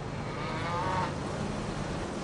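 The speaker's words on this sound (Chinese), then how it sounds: "吃完饭，奶牛们也该上班了。" A dairy cow on a large farm gives a single drawn-out moo near the middle, heard over a steady low barn hum and background noise.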